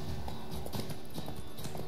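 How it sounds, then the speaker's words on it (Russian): Rhythmic clip-clop of horse hooves at a steady trot in The Witcher 3: Wild Hunt, moderately loud over a constant synthetic-sounding backdrop. "Ну, лошадь моя беспокоится."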